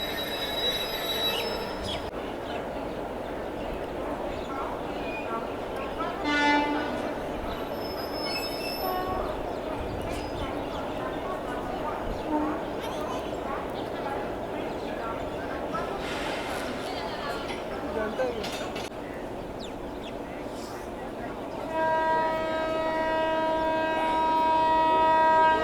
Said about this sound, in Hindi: ये लो भाई कपलिंग हो गई सक्सेसफुल अपने बैंकर लोकोमोटिव की